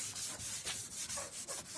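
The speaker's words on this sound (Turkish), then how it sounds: "2000'lik zımparayı kullanacağım şu anda" Steady back-and-forth rubbing of 2000-grit sandpaper across a car headlight lens, a close, continuous hiss with regular stroke pulses and no talking.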